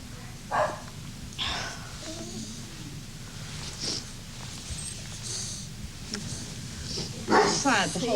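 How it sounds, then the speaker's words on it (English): A few scattered, short, distant-sounding dog barks and yips break through at irregular intervals, with faint background murmur between them. "What was that? One of the dogs upset?"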